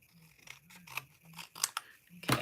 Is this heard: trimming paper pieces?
yes